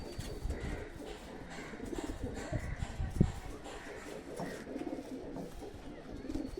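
A pair of Sylheti pigeons, kept at a home loft of high-flying pigeons in Katwa, coo softly and repeatedly over a steady noisy background, with faint voices nearby.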